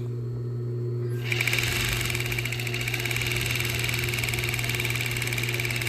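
A sewing machine starts after a second of quiet and stitches steadily, a fast, even mechanical chatter over a constant motor hum, close and alone.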